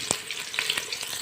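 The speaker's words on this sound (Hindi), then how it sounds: "अब मैं इसमें डाल रही हूँ प्याज कटी हुई" Chopped onion fries in hot oil for chana dal, a bright, even sizzle with a few quick pops and spatters over a short moment.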